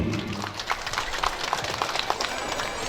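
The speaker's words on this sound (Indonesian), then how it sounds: "Sekali lagi tepuk tangan kepada Bapak Bupati Sukabumi" Scattered, fairly faint audience clapping at a vocational school graduation ceremony in Kalapanunggal, Sukabumi, for the district head, with uneven claps.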